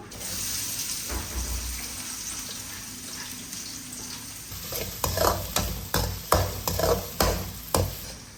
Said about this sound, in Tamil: இதெல்லாம் பொரிஞ்ச உடனே நம்ம நறுக்கி வச்சுருக்க இந்த 2 வெங்காயத்தை சேர்த்துக்குவோம்.